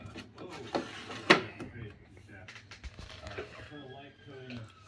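A small drawer in the toolbox of an Ender 3 S1 3D printer is handled, giving a few close wooden and plastic knocks and slides while a person talks over it.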